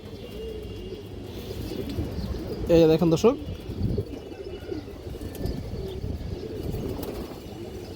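Down-shape fancy pigeons coo at close range, a short burst of low rolling calls standing out from someone talking throughout.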